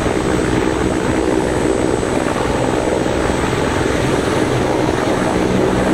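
A helicopter engine in the FlightGear flight simulator drones loud and steady, a dense rotor and turbine roar that fills the whole stretch without pause and with no talk over it.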